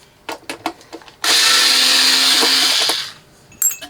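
A power driver whirs steadily for about two seconds, backing small self-tapping screws out of the casing of a Peavey CS4080HZ 4000-watt amplifier under repair, with a few clicks and handling knocks on either side.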